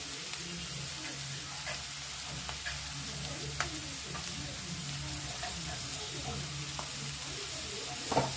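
Tomatoes sizzling and being stirred in a frying pan while making upma, a constant close crackle with scattered scraping clicks of the spoon over a low steady hum.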